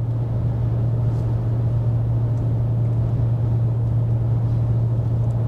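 A car with an AFM/DFM engine cruises at steady speed in L9 gear, giving a loud, constant low engine drone and road rumble with no pauses.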